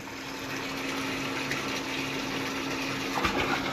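A submersible water pump runs steadily in the water, giving a continuous churning gush with a faint steady hum and no pauses.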